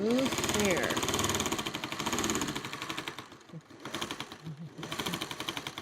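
Sewing machine stitching quilt pattern pieces in short rapid bursts, a fast mechanical clatter close by with brief pauses between runs, alongside a woman's speech.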